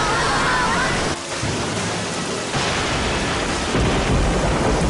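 Heavy rain pours steadily throughout a thunderstorm as floodwaters threaten a town near a failing dam, with a dense roar of downpour and rumbling thunder, loud and continuous, with a brief dip partway through.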